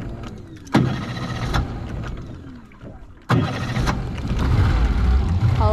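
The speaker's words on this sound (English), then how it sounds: "Just need this outboard to run." Boat outboard motor being started in a remote Northern Territory setting, two sharp cranking bursts a few seconds apart, each followed by rough engine noise close by and loud, with no talk.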